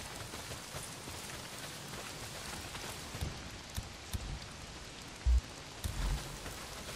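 Steady rain pours in the Days Gone video game, a dense continuous hiss with occasional heavier drops and faint thumps, heard alone without talk.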